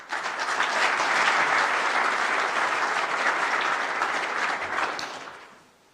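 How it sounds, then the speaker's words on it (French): An audience applauds French President Emmanuel Macron at a Franco-Chinese business council in Beijing, a dense, loud round of clapping that swells quickly, holds steady for several seconds, then fades out. "je vous demande de l'applaudir évidemment"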